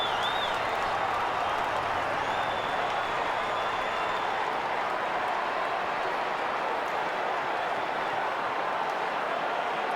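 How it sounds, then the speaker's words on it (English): A stadium crowd at an AFL match between St Kilda and Fremantle, a broad steady roar of screaming and applause filling the space at constant loudness, with a faint whistle-like tone early on. "Crowd have screamed their approval"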